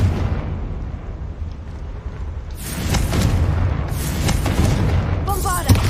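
Explosion sounds from the Confringo spell in the video game Hogwarts Legacy: a low rumbling blast builds, then sharp crackling bursts and pops repeat over a sustained booming bed, ending in a bright magical flourish.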